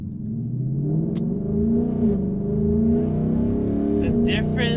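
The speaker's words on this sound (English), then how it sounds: "we're going to gun it to see how much difference the NOS has made on the Mustang" A Ford Mustang GT fitted with nitrous oxide accelerates hard, a loud sustained engine roar rising in pitch through the run, with excited voices exclaiming over it.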